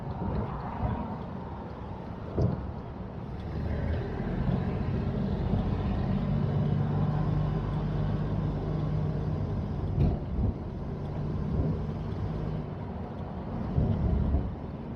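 A Dodge car is driven, pulling away in second gear and then shifting into top gear, with a continuous low engine drone and road rumble heard from inside the cabin and slight swells as the revs change.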